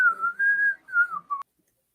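One person whistles a short, wavering tune with a few sustained notes, clear and close, ending abruptly with a brief click and then silence.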